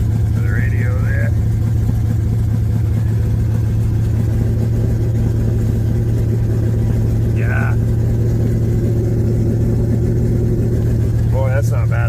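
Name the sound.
Chevy engine running loud with unhooked exhaust off headers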